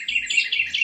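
Carolina wren singing a loud, ringing song of rapid repeated phrases, three or four bright bursts in quick succession, close and clear with no other sounds.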